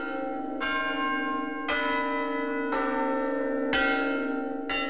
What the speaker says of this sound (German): Am Klostertor ein seltsames Heulen gemischt mit Glockenklang.